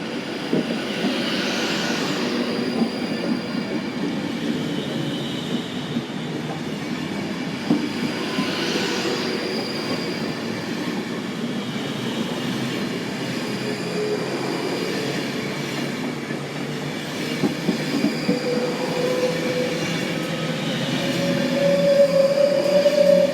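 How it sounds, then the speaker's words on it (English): An Avanti West Coast train bound for London Euston passes through Penrith station with a continuous loud rail rumble and rolling wheel noise, and a thin wheel squeal rises near the end. "Now passing is the Avanti West Coast off to London Euston."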